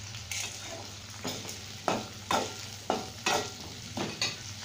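Cumin and pepper sauté in a pan for thuthuvalai rasam, a soft continuous sizzle marked by about eight distinct spatula scrapes in an uneven rhythm, close and fairly quiet.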